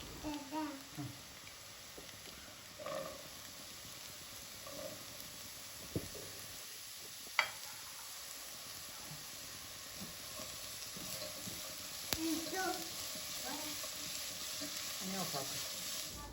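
Carrots sautéing in oil in a pan, a quiet steady sizzle with a few sharp scrapes and clinks of stirring scattered throughout, with occasional faint voices.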